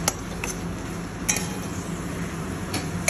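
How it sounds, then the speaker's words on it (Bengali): A spoon scrapes and clinks against a pan while poppy seed paste with mustard and green chilli is stirred over raised heat, giving steady soft scraping with a few sharp metallic taps. "এবার ভালো করে মিক্স করে দিতে হবে আঁচ বাড়িয়ে"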